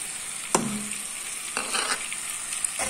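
Spice powders (turmeric, chili, pepper, coriander, cumin, sambar masala) are stirred into a sizzling radish sambar base, with a steady close hiss broken by a few sharp spoon scrapes against the pan; no one speaks.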